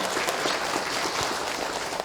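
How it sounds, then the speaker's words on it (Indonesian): Steady applause from an audience at a religious lecture in a school setting, a dense wash of many hands clapping at moderate distance, continuous for a couple of seconds without speech. "tepuk tangan dong"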